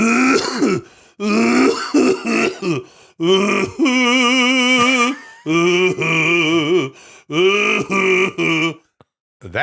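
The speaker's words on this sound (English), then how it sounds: "performative coughing" Repeated loud, exaggerated throat clearing and coughing bursts, grunting and groaning in a series of separate fits with brief pauses between.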